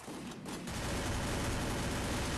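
Rapid, continuous gunfire in Free Fire aimed at a tree, a dense hissing stream of shots that starts after a short pause and stays loud to the end.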